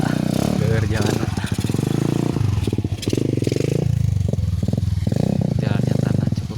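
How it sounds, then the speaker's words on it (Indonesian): A motorcycle rides along a narrow, slippery dirt road on a mountain in West Java, its engine droning steadily with rattles and scrapes from the rough track, while a voice talks over it throughout. "Susah banget ya bawa motor di sini"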